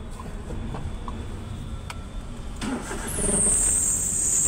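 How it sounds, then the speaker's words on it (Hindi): A Maruti Alto LXI car with a gear-shifting problem starts up: a quiet background hum, then the engine catches about three seconds in and settles into a louder, steady run with a high squeal. "अभी मैं गाड़ी स्टार्ट कर लेता हूँ"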